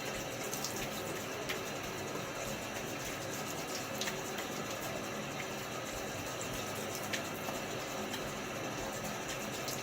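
Steady running tap water during a wet shave, as a safety razor is rinsed under the flow; a continuous broadband splashing hiss with a few brief clinks, moderately quiet and with no talking.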